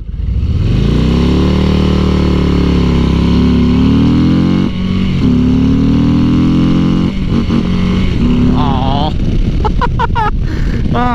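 Harley-Davidson Low Rider ST motorcycle engine revving and accelerating hard, loud and close, with the pitch climbing through the gears, dropping briefly at shifts, then a rapid stuttering rev-limiter burst near the end.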